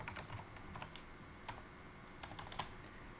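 Commands being typed on a computer keyboard for Cisco networking configuration, a quiet, brief patter of key presses with a few louder taps, no speech.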